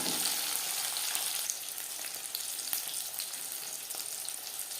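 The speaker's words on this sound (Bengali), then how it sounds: "জিরে ভেজে নেওয়ার পর দিয়ে দেবো একটা টমেটো" A large chopped tomato drops into cumin frying in a pan for a vegetarian okra curry, setting off a loud, steady sizzle that eases a little after the first moment and carries on without any voices.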